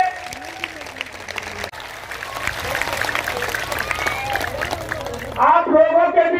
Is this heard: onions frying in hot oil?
no